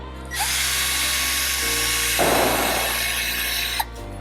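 A small buffing pad spins on a power tool, polishing the engine of a Royal Enfield 650 twin at home. It gives a steady, close, high whine with a rougher grinding stretch midway, then cuts off.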